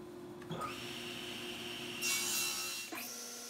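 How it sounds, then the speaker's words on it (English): A table saw whirs up, cuts a scrap board to length with a brief rising rasp of blade through wood, then spins down, nearby and alone. "Once I decided how long to make the rack, I cut it to length on the table saw."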